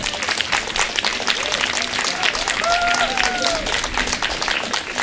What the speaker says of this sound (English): can we just get one more round of applause for everyone that's been organising this